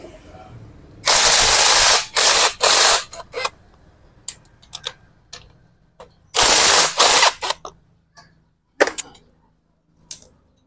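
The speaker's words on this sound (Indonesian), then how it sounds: "kita kendorkan ya. Kendorkan pakai buah sok ya." A socket wrench loosens two nuts on a Yamaha Mio Sport scooter engine that runs poorly and makes noise, giving bursts of loud ratcheting followed by scattered short metallic clicks and taps, close up.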